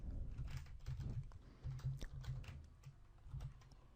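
Quiet, rapid clatter of computer keyboard keys as HTML code is typed, an uneven run of soft taps with brief pauses between bursts.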